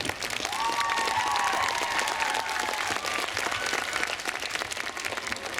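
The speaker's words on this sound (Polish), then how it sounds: "należą się naszym dziewczynom ogromne brawa" Steady audience applause at a May 3rd local celebration honouring the girls' team, sustained clapping throughout with a faint tonal whistle or feedback sound drifting over it early on.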